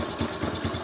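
A motorcycle engine idles roughly at low RPM, a close, steady putt-putt pulsing at about four to five beats per second.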